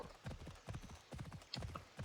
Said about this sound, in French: Alors là, j'appelle mon cheval